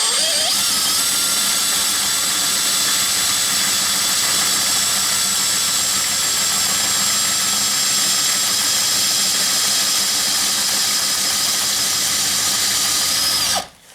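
A Makita XPH07 brushless 18V LXT hammer drill with a 1/2 inch bit bores through a 1/4 inch steel sidewall with cutting fluid, a continuous loud, close grinding whine with a high squealing tone that runs unbroken before stopping abruptly.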